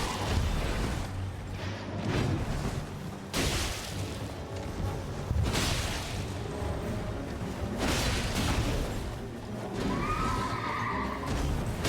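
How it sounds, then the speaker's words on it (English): A horse boss in the Elden Ring video game whinnies amid combat, with loud neighs, booming impacts and crashes layered over a busy battle soundscape. "This is good for Ratty though, because this is a horse boss and a status effect Ash of War."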